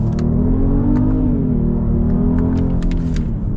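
A 2021 Genesis GV80 luxury SUV accelerates hard, its engine note climbing steadily and loud inside the cabin with no talking.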